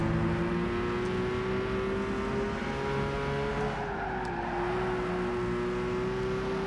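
Dodge Ram race car engine at Laguna Seca in Gran Turismo 5, holding a steady high-revving drone with a slight pitch dip and recovery midway, loud and continuous.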